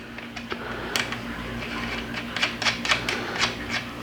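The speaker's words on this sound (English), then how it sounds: "Now tighten down the lock nut." A lock nut is tightened on a Chrysler A-727 or A518 transmission, giving a series of faint, sharp metallic clicks and ticks over a low steady hum.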